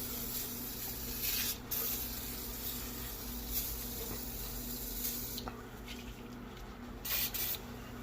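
Oven cleaner hisses out of an aerosol can in a steady, close spray that comes out slowly, with a few short louder bursts and brief pauses near the end.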